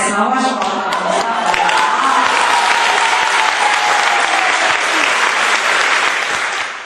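A crowd gives Uyar a standing ovation at an Urla municipality event, and loud, dense applause fills the whole stretch without a break, with some voices mixed in at the start.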